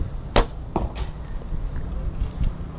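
Several sharp arrow releases from a 38 lb Turkish bow, each a quick snap followed by a soft thud, spaced about half a second apart against a faint background.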